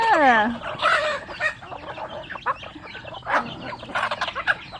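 Free-range backyard chickens cluck and squawk while pecking at rice on a farm, with a loud call at the start and busy, overlapping clucking that continues throughout, close by.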